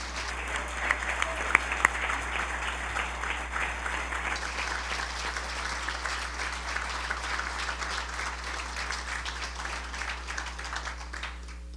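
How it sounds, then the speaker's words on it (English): An audience at a mayoral candidate meeting gives the candidates a sustained round of applause, steady and even throughout over a low electrical hum. "all of these candidates in the room with us deserve a big round of applause"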